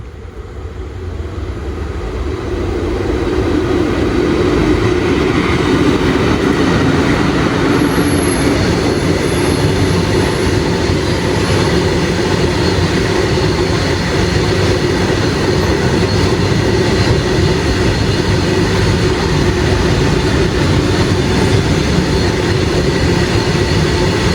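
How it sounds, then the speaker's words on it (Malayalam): A goods train rumbles past at length, its heavy continuous roar rising in the first seconds and staying loud, with faint wheel squeals. "ഏതോ ഒരു ട്രെയിൻ വരുന്നുണ്ട്."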